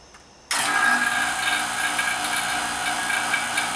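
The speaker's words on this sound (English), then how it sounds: "I'm gonna take and fire up my vacuum pump." A vacuum pump for charging a car's A/C system kicks on abruptly after a short quiet lead-in, then holds a loud, steady mechanical drone with a rattly, buzzing texture close by.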